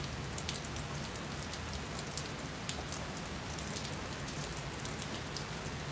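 Heavy rain pours steadily, a dense hiss with scattered sharp drop impacts on nearby surfaces, even and unbroken throughout, no voices.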